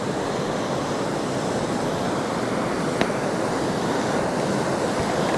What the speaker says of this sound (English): I was next to a waterfall and you probably can't hear me anywhere.